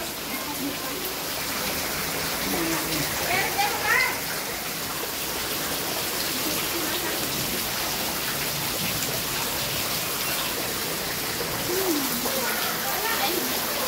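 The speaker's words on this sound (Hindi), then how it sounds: "हमारे यहाँ बहुत ज़ोर से बारिश हो रही है" Heavy rain pours down in a steady, dense hiss that holds throughout, with a few faint voices in the background.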